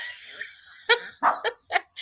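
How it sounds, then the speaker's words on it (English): A dog barks in a quick burst of four or five sharp, close yelps indoors, following a brief stretch of quieter sound. "That's what she was barking about."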